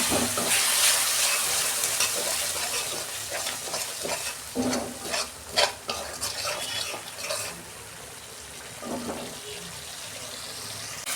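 Fish curry masala with Kashmiri chili and a little water frying in a pan, a steady sizzle with intermittent scraping stirs and a few louder clatters, close and alone without talk.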